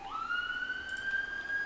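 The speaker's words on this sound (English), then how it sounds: "Sirens. They're coming to recover what's left of the American fleet." Steady wailing siren in the naval strategy game Rule the Waves 2, a single sustained rising tone that holds at a constant pitch, moderately loud against a quiet background with no talking.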